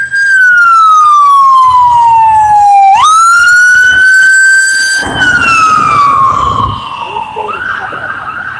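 Loud emergency-vehicle siren from a fire department or first-aid unit on a lively night street in Asbury Park. A long wail sweeps down, jumps back up, then fades among traffic rumble.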